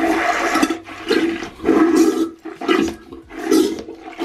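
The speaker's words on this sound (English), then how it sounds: "here we have the drain buster. I can show you guys how easy it to use. So pretty much all you gotta do is press down, pull up" A Samshow high pressure toilet plunger, a drain buster, is worked in a toilet with repeated push-pull strokes. Four or five loud, close gurgling, whooshing water surges come in a steady rhythm, with short gaps between them and no talk.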